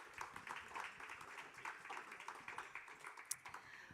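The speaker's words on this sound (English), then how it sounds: "Let's give them one more round of applause." Faint audience applause for panelists at a conference on equitable infrastructure, a soft, even patter of clapping heard from a distance.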